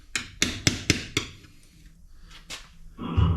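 A screwdriver used as a hammer strikes sharply five times in quick succession, then twice more after a pause, close and loud, while working on the rear end of a 1979 Cadillac hearse.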